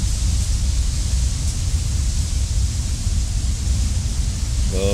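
A loud, unbroken roar of rushing water from a waterfall in the video game Resident Evil Village, with a short burst of voice near the very end.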